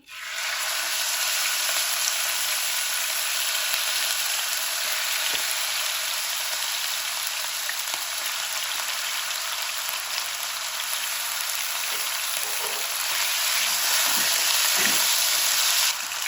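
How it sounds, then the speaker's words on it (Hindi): Mutton pieces fry in about a cup of hot oil for a Peshawari karahi gosht, giving a loud, dense, continuous sizzle that starts suddenly and holds steady, with faint utensil touches near the end. "इसको उतनी देर ऑयल में फ्राई करेंगे, एक तो इसका कलर चेंज हो जाए"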